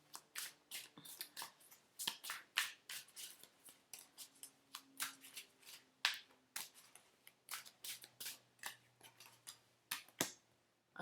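Tarot cards being shuffled and pulled from the deck, crisp riffles and sharp flicks in an uneven stream of quick bursts, close and fairly quiet, no voices.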